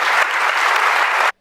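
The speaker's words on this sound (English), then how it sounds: "would you give a round of applause for both our guests?" An audience at a debate event applauds the guests in a loud, dense burst of clapping that holds steady, then cuts off abruptly just before the end.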